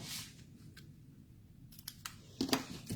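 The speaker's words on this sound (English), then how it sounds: "And then just trim it slightly." Scissors give a few quick, close snips while trimming ribbon on a handmade shaker card, the cuts short and crisp against a quiet room.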